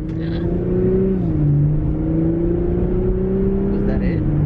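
A car accelerating hard on a test drive, its engine drone rising steadily in pitch and falling back with a gear change, close and continuous inside the cabin while people talk over it.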